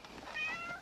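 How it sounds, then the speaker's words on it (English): A cat gives a single short meow, fairly faint and close, with no other sound around it. "Cats can take care of themselves."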